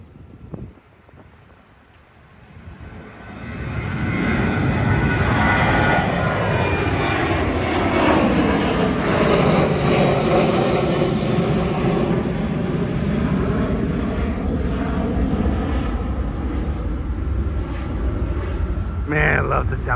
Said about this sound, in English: here comes another 737 taking off right now.